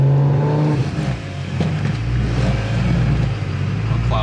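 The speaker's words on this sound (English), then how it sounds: "He's revving, dude." A car engine, a Ford Falcon GT350 with the Barra engine, revs loudly and nearby, the pitch climbing and holding in a sustained roar, with traffic rumble underneath at a car meet.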